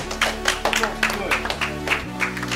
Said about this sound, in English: Everybody clap for a good first day.